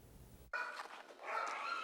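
Sled dogs at a resting checkpoint of a mushing race, the Bear Grease Marathon: after a brief pause, a chorus of barking and yipping breaks out and keeps going, growing louder toward the end.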